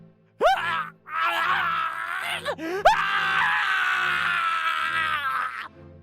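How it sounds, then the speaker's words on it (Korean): A man screams in agony while his legs are locked in shackles on a torture device, loud drawn-out cries with a short break, rising again and sustained to the end. "아까와는 비교도 할 수 없으리만치 고통스러운 비명을 내질렀다."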